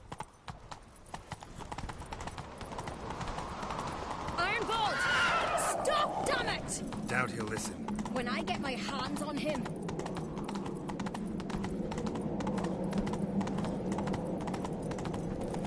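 Horse hooves clatter in a fast gallop during a chase in The Witcher video game, a steady drumming rhythm under shouted dialogue and game music.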